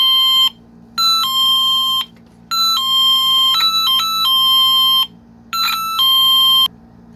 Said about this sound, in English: It's beeping, so it seems to be okay.